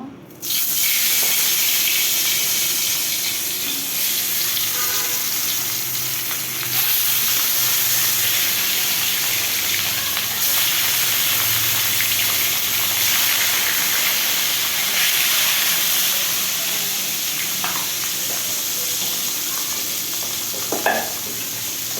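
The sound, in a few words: fish frying in oil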